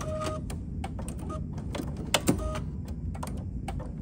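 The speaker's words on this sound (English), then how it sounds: "Just press my threading button." The automatic needle threader on a Janome 880 sewing machine runs after a button press, a short series of soft mechanical clicks and whirs with a couple of sharper knocks near the middle.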